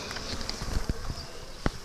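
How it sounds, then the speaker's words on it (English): Honey bees buzz around a hive during requeening, a soft steady drone with a few brief knocks and taps close by. "A lot of bees up here."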